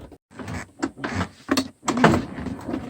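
The park brake switch on a John Deere 155D lawn tractor is pushed in and pulled out, giving a few short, close mechanical clicks and rubbing scrapes with brief pauses between them.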